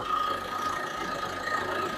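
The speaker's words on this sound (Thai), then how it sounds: "เครื่องยนต์ นะครับ เสียงแน่นแน่นอนนะครับ" A 2020 Mitsubishi Pajero 2.4 GT Premium engine idles steadily at moderate volume, a constant even hum with a faint higher whine running through it.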